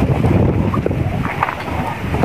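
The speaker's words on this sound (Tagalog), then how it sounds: "ramdam ng hangin." Loud, blustery wind from an approaching storm roaring against the microphone, a constant low rumble with gusting buffets throughout.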